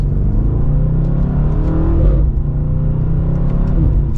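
A 2023 BMW M850i xDrive Coupe accelerates with a deep, loud engine and exhaust rumble heard from the cabin, a few faint crackling pops scattered through the steady roar.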